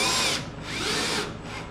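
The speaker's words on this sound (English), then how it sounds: "That's why I hate drills." Power drill whirring steadily at close range in a workshop while restoring a rusty 1936 Ford Roadster custom, with loudness dipping briefly between bursts over about two seconds.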